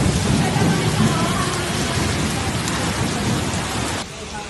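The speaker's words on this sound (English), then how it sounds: "Heavy rain obscured the area" Heavy storm rain pours steadily in a dense, loud roar with thunder rumbling underneath, easing slightly near the end.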